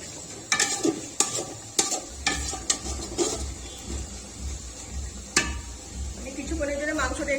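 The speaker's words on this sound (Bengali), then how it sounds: "আমি এই তেলেতেই মাংসটা এবার তৈরি করে নেব" Mutton is stirred in hot oil in a pot, with several sharp scrapes and clanks of a spoon against the metal over a continuous sizzle that thickens toward the end.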